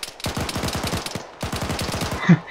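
Bandits firing automatic weapons in the video game AMRA 3 Factions: two loud bursts of rapid, evenly spaced shots, separated by a short pause, with a single sharper impact near the end.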